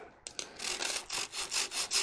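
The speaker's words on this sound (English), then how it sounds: "And now we go back and start sanding each of the grooves." Rhythmic back-and-forth rasping of 150-grit sandpaper in the grooves of a wooden goblet stem on a lathe, about eight strokes in a steady cadence, close and fairly quiet.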